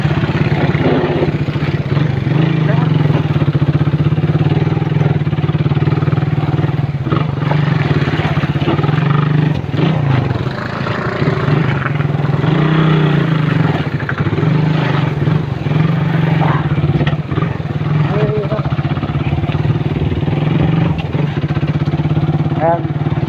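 Motorcycle riding over a rough road, a loud steady engine drone with rattling and clatter from the bumpy surface throughout, and someone talking over it.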